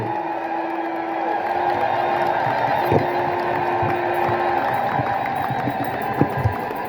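A large crowd ululating in sustained, loud, high trills while praising God at a religious gathering at Merkato Teklehaimanot, with shouts and some voices mixed in.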